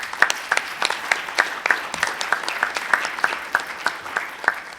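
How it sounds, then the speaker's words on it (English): A small conference audience claps for the event organizers, with distinct, fairly sparse hand claps in an irregular patter at moderate loudness and no talking over it. "we should all give just everyone involved with organizing it a round of applause"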